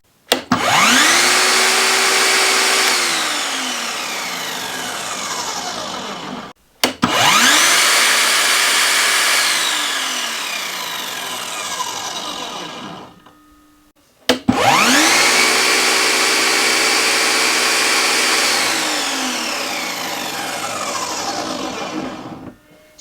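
An Einhell PXC TE-TS 36/210 cordless 36-volt job site table saw is switched on three times. Each time its motor whirs up to a loud steady whine, runs a few seconds and winds down, with no speech.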